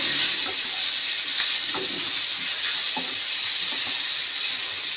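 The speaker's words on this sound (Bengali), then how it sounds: "ডাটা সেদ্ধটা দিয়ে দিলাম, দিয়ে নেড়েচেড়ে আবার একটুখানি ভেজে নেব তেলের মধ্যে।" Boiled cauliflower stalks and chopped tomato fry in oil with a constant loud hiss, while a spatula stirs them with scattered scrapes and clinks; no speech.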